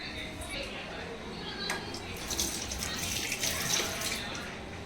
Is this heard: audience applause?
no